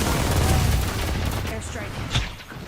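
Gunfire bursts in Apex Legends, a dense run of shots through the first half that fades lower, with a sharp louder crack near the end, under a busy game mix.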